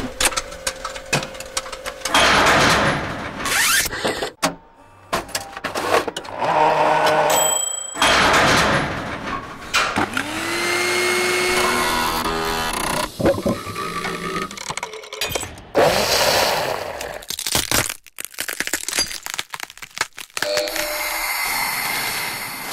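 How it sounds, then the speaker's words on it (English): A rapid sequence of separate mechanical effects from a switches, buttons, motors and machines library: sharp clicks, door-like slides, whirring motors and tonal machine hums, each brief and close, following one another with short silent gaps. "A great selection of switches, buttons, motors,"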